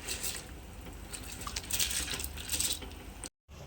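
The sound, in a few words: soaked rice added to boiling water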